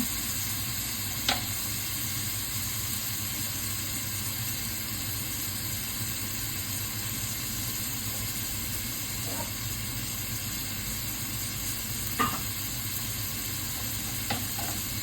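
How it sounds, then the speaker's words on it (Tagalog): Ginger browning in a pan as the first step of Bicol Express gives a steady, even sizzle and hiss, with a few faint clinks from stirring. No voices are heard over the frying. "Igisa muna natin yung ating luya. Hanggang maging brown siya."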